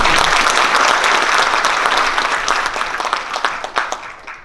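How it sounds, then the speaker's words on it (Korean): Loud, steady applause from a talk show audience welcoming a guest, dense clapping that holds for several seconds before thinning into scattered claps as it fades. "힘찬 박수로 인사 말씀 한번 청해 드리겠습니다"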